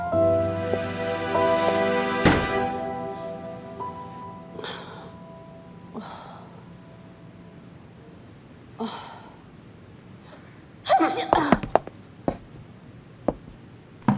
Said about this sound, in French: Ne m'éternue pas dessus.